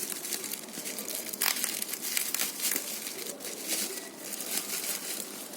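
Plastic packaging of a set of about eight washi tapes crinkles and crumples steadily while being unboxed up close, with sharper crackling bursts throughout and no talk.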